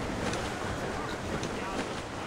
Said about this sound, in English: I don't like that wind, sir.